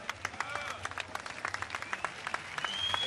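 Crowd applause and cheering at the 2013 X Games Barcelona skateboard park final, a steady wash of clapping with sharp bursts throughout, a whistle rising near the end.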